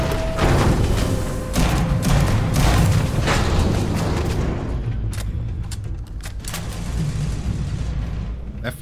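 Heavy booming gunfire and explosions strike a turret in the space game Starfield, a dense rumbling barrage that thins into scattered sharp impacts, with a player talking over it.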